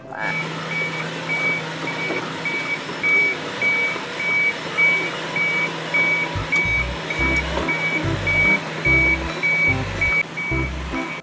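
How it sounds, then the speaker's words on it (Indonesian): Steady reversing beeps from a toy excavator, a loud even series of repeated tones running throughout with a low rhythmic pulsing thump underneath in the second half. "ada mobil eskavator teman-teman"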